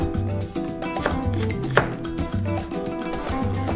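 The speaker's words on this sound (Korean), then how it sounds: "이렇게 다지듯이 양념을 하는 것은 조금 잘게 썰어 주셔야 돼요." Green onion is finely chopped with a knife on a board, a rapid, even run of close, crisp chopping taps for Korean rice cake soup garnish, with no talking.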